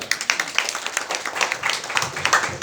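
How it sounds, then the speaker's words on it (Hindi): A church congregation claps loudly during a charismatic worship service, a dense run of quick overlapping hand claps that comes in waves. "प्रभु के लिए जोर से तालियां।"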